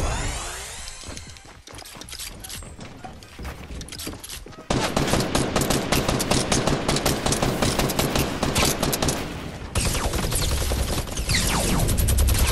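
Relentless automatic gunfire from video game weapons, rapid overlapping shots that grow louder partway through and keep pounding with little pause.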